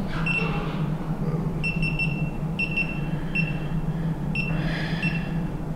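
A GoPro Hero camera gives a series of short electronic beeps as its Wi-Fi is switched on, several spaced chirps over a steady low hum, close and clear with no talking.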